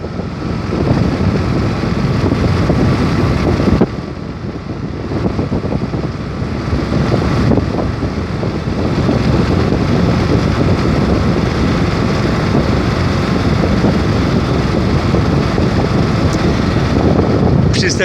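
A motorboat runs on the Vistula river near Góra Kalwaria, its engine a steady close drone mixed with wind buffeting the microphone throughout, with a brief dip in level early on.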